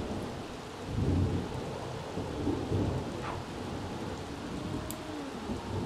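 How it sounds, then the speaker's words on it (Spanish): Rain and rolling thunder in The Sims 3 video game, a steady patter of rainfall under low rumbles that swell twice, heard without speech. "empieza a llover otra vez"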